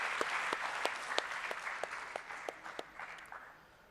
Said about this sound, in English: can we all have a big round of applause